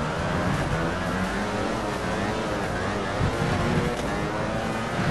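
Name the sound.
motorcycle engine in MotoGP video game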